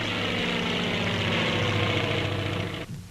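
Propeller-driven carrier planes fly from the typhoon-damaged flight deck of USS Bennington, their engines droning loudly and steadily before cutting off abruptly near the end.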